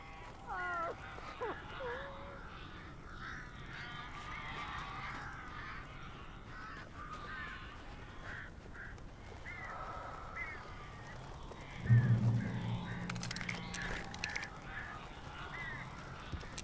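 Crows caw repeatedly in the video game Alan Wake 2, harsh calls scattered through the scene with other bird sounds, game ambience and a low thump midway, at moderate loudness.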